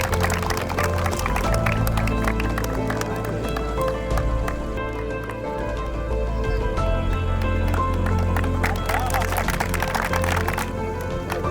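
An audience applauds at an award ceremony for the First Shuv Laxmi Memorial Cup 2077: dense, continuous clapping from a large crowd carries on loudly for about ten seconds, with a steady tonal hum underneath.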